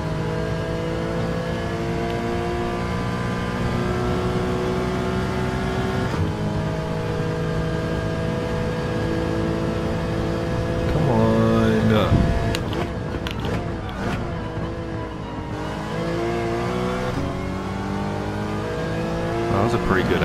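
A Mazda race car engine in Gran Turismo 7, a steady high-pitched drone holding through the stretch with a shift dip partway and a brief surge of revving, while a voice talks over the racing.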